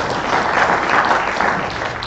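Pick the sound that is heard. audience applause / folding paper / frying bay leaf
audience applause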